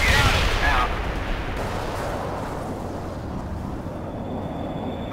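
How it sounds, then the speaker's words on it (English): A mortar barrage in the war game World in Conflict, with a dense rumbling roar of blasts that is loudest at the start and then settles into a sustained, noisy wash of distant detonations. "Mortar barrage."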